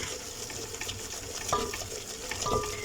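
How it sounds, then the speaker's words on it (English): White sauce for pasta stirred in a pan, a soft continuous scraping and wet swishing with a couple of light utensil knocks against the pan, close and moderately quiet. "And then the last one, and then stir"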